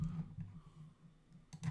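A few scattered keystrokes on a computer keyboard, quiet and close, with a short burst of clicks near the end over a low steady room hum; no one speaks.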